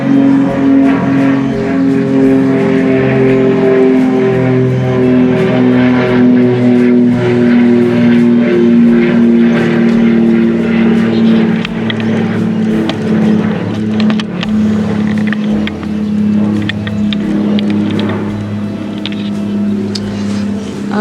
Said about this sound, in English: let me just wait for this airplane to pass by so that you can actually hear me